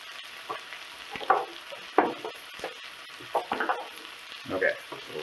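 Thyme and vegetables get stirred in a hot pan, a spatula scraping and clacking in several distinct strokes over a soft, low sizzle, close by.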